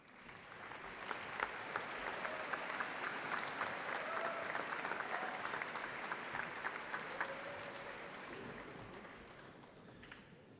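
Audience at a high school graduation ceremony applauds continuously, a dense, even field of many hands clapping with a few sharper claps standing out, heard from some distance in a large hall.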